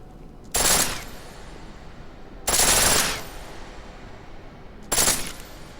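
Full-auto gunfire in the video game Deus Ex: Mankind Divided: three loud, sharp automatic bursts, each lasting about half a second, separated by pauses, with nothing heard between them.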